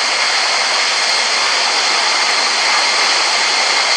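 Jet airliner engines roaring at takeoff power during a departure roll in Real Flight Simulator, a loud, steady broadband whine and rush holding constant throughout with no speech.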